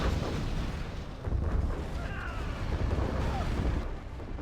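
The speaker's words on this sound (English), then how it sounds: "Level 3 artillery coming in." Heavy artillery barrage in a strategy video game match on a desert map, a dense continuous rumble of overlapping booms and blasts, loud and sustained with a faint voice underneath.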